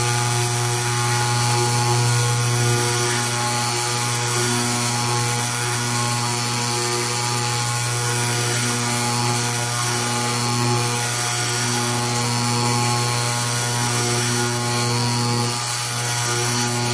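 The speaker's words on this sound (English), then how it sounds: "try to remove a little bit just to demonstrate the linear sanding" A Powr-Kraft linear brushless finish sander works a wood block, a steady loud motor whine with a constant buzzing hum that runs without pause and has no voices over it.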